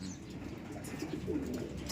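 Racing pigeons courting at a feeding spot give soft, low cooing calls, close by and moderately loud over a faint rustling background.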